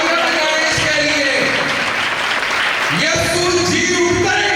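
A congregation claps for a child during a midnight Resurrection church service, a steady wash of applause lasting throughout, with a voice and some background sound mixed in underneath.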